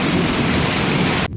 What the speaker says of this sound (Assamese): এতিয়ালৈকে বৰষুণ চিপ চিপকৈ দিয়ে আছে